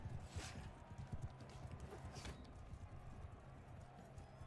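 Horse hooves in a video game, a quiet steady patter of clip-clopping steps with a couple of sharper thuds, continuing faintly throughout.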